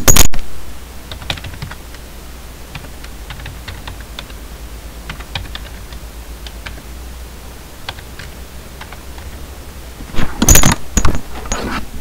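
A Windows XP product key goes in on a computer keyboard as a run of crisp, irregular key clicks, close and fairly quiet, ending in a louder flurry of keystrokes near the end.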